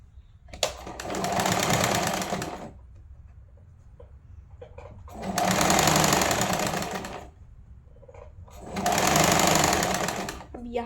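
A sewing machine stitches lehenga fabric in three long bursts, each a couple of seconds, with quiet pauses between where faint handling sounds are heard.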